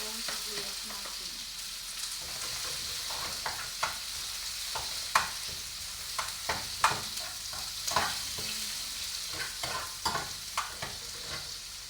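Onions sizzle and fry in a pan under a steady hiss, broken by repeated scraping and stirring clicks from a utensil, fairly quiet and close, with no talk.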